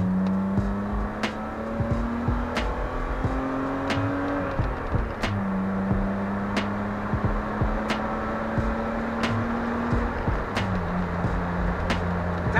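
A BMW E34 with an M50 engine pulls in second gear at about 4000 rpm, its steady engine tone rising gradually and holding, heard close from inside the car with no talk.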